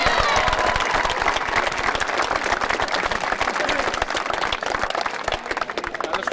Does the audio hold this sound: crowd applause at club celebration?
yes